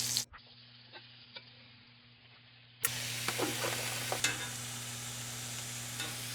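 Steak sizzling in a hot skillet, a steady hiss that swells loud once the meat is set down, with a few faint ticks and taps of a utensil.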